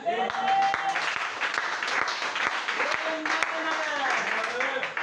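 A church congregation claps and cheers steadily throughout while a voice speaks and sings over the applause.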